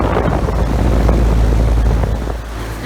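A 2011 Payne 4-ton straight-cool air conditioner with a Copeland scroll compressor running outdoors: a loud, steady low-pitched whirring drone with fan rumble, continuous and close, with no talk.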